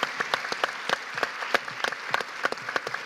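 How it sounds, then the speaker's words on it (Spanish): Audience applause at a biotechnology talk event honoring three speakers, dense steady clapping with sharp individual claps standing out, moderately close, no talking. "Un gran aplauso, por favor, para los tres."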